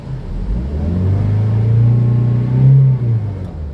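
An ex-taxi Limo car engine revs under inspection, its deep steady roar swelling and holding for a few seconds before easing off, close and loud with a slight vibration near the end.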